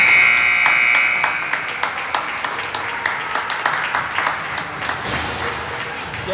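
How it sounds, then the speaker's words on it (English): A hockey arena horn sounds at the close of the first half, a loud sustained blare at the start that cuts off after about a second, followed by steady crowd noise with scattered thumps and claps. "I heard the buzzer go."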